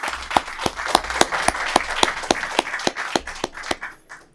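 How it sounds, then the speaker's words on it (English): A crowd at a Peoria Board of Education candidate town hall meeting applauds loudly, with a dense wash of clapping punctuated by sharp, regularly spaced individual claps before it fades out. "Give yourselves a big round of applause."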